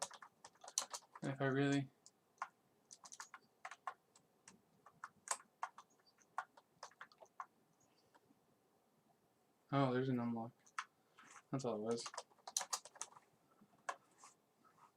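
Quick, light keystrokes patter on a computer keyboard in scattered bursts at a desk streaming setup, with someone speaking briefly in between.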